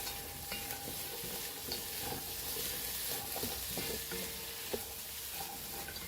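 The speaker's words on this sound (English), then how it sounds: "let me roast this for few minutes. See, I have not added any oil" Masala being dry-roasted in a pan with no oil, a faint, steady crackle and scrape of stirring that carries on alone throughout.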